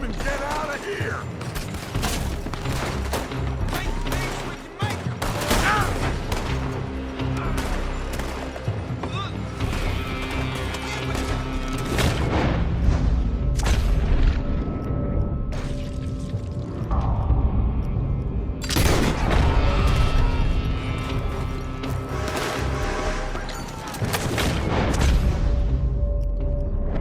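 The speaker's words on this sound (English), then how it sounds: "They're shooting from that building." A Red Dead Redemption 2 shootout with repeated gunshots and crashing impacts, loud and close, scattered over a busy, dense game soundscape.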